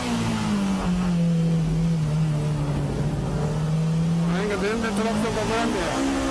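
Honda S2000 race car on a wet track, its engine a steady droning tone that dips and then climbs as it revs, heard under a commentator's continuous speech.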